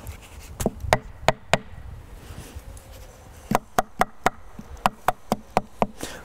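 A wooden entrance plug is pushed and tapped into a tree beehive, making a run of sharp, evenly spaced knocks close by, with a short pause partway through.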